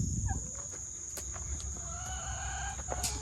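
Backyard chickens cluck and squawk close by among turkey hens and a rooster, with a steady bright tone over short calls and a faint crow-like cry near the start.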